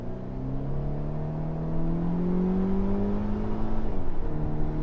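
A 2018 Volvo XC60 R-Design with a 316-horsepower engine accelerates hard from 20 to 60 mph, a steady rising engine drone heard from inside the cabin, pitch climbing smoothly with a brief shift dip near the end.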